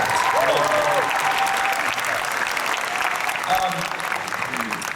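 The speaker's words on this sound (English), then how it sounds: "Let's have a round of applause for the staff who put this together." An anime convention crowd at the Otakon 2017 opening ceremonies in Washington, DC claps in a broad, sustained round of applause for the event staff, with voices and a few cheers mixed into the clapping.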